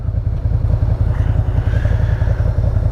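A motorcycle engine burbles and thumps loud and close in a steady low throb while the bike weaves through cones during a Virginia DMV skills test, with no talking.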